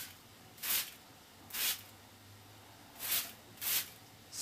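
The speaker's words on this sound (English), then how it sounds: "just normal spray bottle." Water spritzed from an ordinary spray bottle onto a model aircraft wing under construction: four short, hissing bursts, each about a quarter second, spaced unevenly and close by, with quiet room tone between them.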